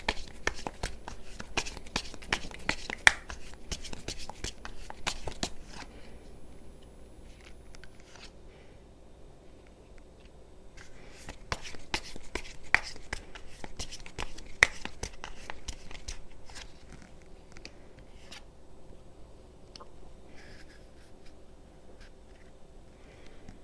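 Tarot cards being shuffled by hand, a quiet riffling and slapping that comes in dense bursts with pauses between them, close and soft, with no talking.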